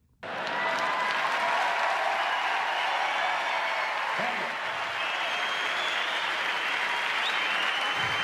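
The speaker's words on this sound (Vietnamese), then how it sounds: "Và khán giả vỗ tay ầm ầm." A large audience below a stage breaks into loud, sustained applause that starts abruptly and holds steady for several seconds, a dense wash of clapping with faint crowd noise.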